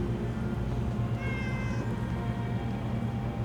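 A cat meows in the video game Fallout 4: Far Harbor, a single drawn-out call rising over a dense, steady background hum of game ambience.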